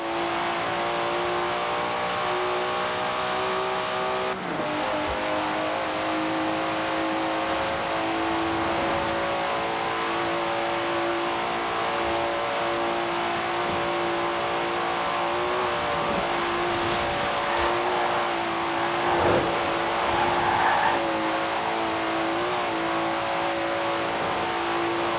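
A Datsun car in the racing video game Forza Horizon 4 revs and drones steadily for about 25 seconds, a loud, continuous engine roar with shifting tones and no talk over it.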